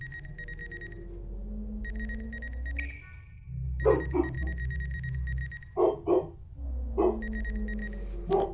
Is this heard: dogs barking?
yes